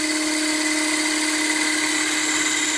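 A wood lathe runs steadily while a parting tool cuts into a biscuit cutter, giving a loud, continuous high whine with a constant motor hum and no breaks.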